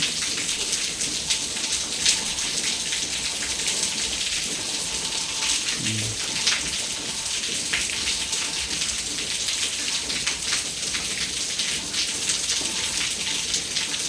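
Heavy rain pours down in a steady, dense hiss, with a brief faint voice once in the middle.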